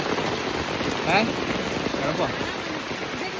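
Steady rain falls outdoors in a monsoon setting near a pond, a continuous hiss of drops with a brief spoken question over it.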